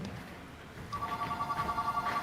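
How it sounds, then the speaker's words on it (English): A telephone rings in the background while fans call in, a thin steady electronic tone that starts after a moment and holds under a noisy, murmuring room. "You hear the phone ringing in the background the entire time."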